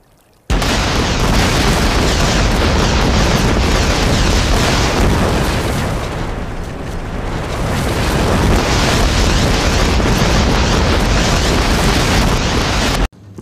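Continuous roaring cannon blasts blowing up a sniper tower in a video game, loud and sustained for over ten seconds with a brief dip midway, no speech.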